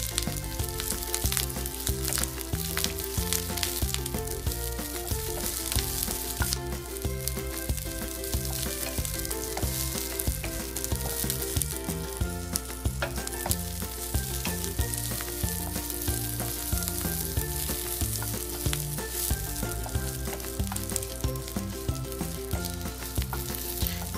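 Green chilies and curry leaves fry in hot oil with a dense, continuous sizzle, close and steady throughout, with faint occasional stirring.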